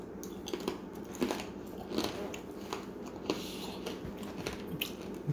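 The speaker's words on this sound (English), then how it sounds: "It tastes exactly like a fucking banana, but it's crunchy as fuck." Crunchy dried banana pieces are bitten and chewed close up, with repeated crisp crunches at an irregular rhythm over quiet background.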